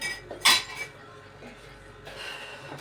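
Dishes and cutlery clink and clatter as they are unloaded from a dishwasher, with one sharp ringing clink early and lighter knocks after, close by.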